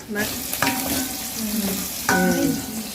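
Fatty mutton fries in a pan, hissing in a steady, close sizzle broken by a couple of louder stirring scrapes.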